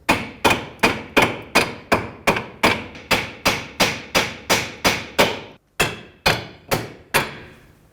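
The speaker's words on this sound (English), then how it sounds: "I'm going to tap the knuckle as I pry down, and hopefully that does the job" A hammer taps the steering knuckle of a Chevrolet Equinox during front knuckle removal, giving a loud, even run of sharp metallic blows, roughly two per second, with one brief pause near the end.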